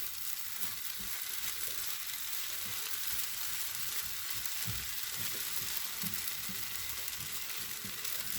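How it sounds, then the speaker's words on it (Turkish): Steady, dense sizzling of kadayif pastry frying in a pan, continuous and fairly loud, with occasional soft clinks and pops throughout; no voices. "Şimdi ben bunu biraz kızartmaya devam edeceğim."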